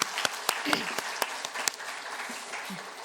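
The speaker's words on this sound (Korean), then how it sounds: "수고하신 우리 권사님들 또 선교 대원들을 위해서 한번 격려의 박수 부탁드리겠습니다" A Korean church congregation gives a short round of encouraging applause, opening with a few sharp, distinct claps that blend into a softer, fading patter, with a voice speaking lightly underneath.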